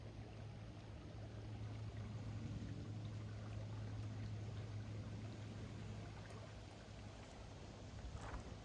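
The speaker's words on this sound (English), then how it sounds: "Oh, listen to the water gurgling." Steady gurgling, rushing water runs continuously throughout, fairly close and even in loudness, with no voices.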